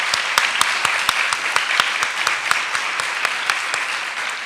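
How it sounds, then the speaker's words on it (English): Sustained applause from a reception audience at a press club, a thick even wash of many hands clapping with a few sharper claps standing out, continuous for the whole stretch. "Can we all just applaud, because that's amazing."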